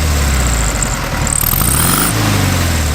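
A Volkswagen's 60 horsepower 1.6 liter Boxer engine, mounted over the rear axle, idles with a steady low rumble that runs throughout, loud and close.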